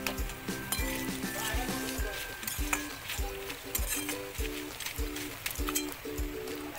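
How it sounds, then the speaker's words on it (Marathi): Malvani masala spices, including cinnamon and asafoetida, dry roasting in a pan, with a rhythmic series of scraping stirs and light clinks over a faint crackle, close and steady, with no talking. "मस्त भाजून घेतोय आपण."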